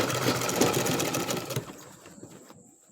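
Sewing machine stitching a trouser welt pocket, a steady fast whir that runs for about a second and a half, then stops, leaving faint room noise.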